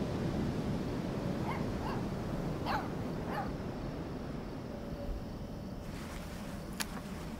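A puppy in the Life Is Strange 2 video game gives a few soft, short yips and whimpers over a steady outdoor wash like surf, fairly faint, with no talking.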